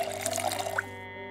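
In the zombie survival game Project Zomboid, water runs briefly from a tap, a close splashing pour that cuts off abruptly after under a second, leaving a quiet hum.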